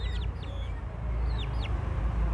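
Young Bangkok chicken chicks in a coop, a few thin, high descending peeps in short clusters over a steady low hum.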